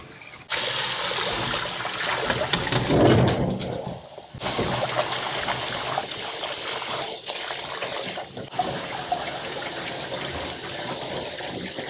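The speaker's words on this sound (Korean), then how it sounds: "이제 찬물에다가 제가 한번 헹궈 갖고 오겠습니다" Running water pours and splashes steadily for several seconds as boiled rapeseed greens, a winter vegetable, are rinsed in cold water, with a loud, continuous gush and a brief lull partway through.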